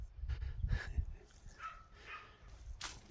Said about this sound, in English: Dog yapping.